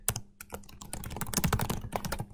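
Rapid, close typing on a computer keyboard, a dense irregular patter of key clicks with no pauses or voices.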